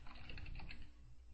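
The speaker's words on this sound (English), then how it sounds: "Let's type in solutions." Fingers tap out a quick run of keystrokes on a computer keyboard, soft close clicks in a brief, even patter with no talking.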